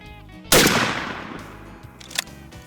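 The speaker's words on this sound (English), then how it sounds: "we let every kid go through and do a couple shots with the firearm they'll use tomorrow" A firearm fires one sharp, loud, close shot at a kids' shooting station, and the blast trails off in a long echoing decay. A smaller, fainter crack follows a moment later.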